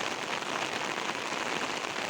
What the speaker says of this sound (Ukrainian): Як ви бачите, це дуже-дуже сильний дощ.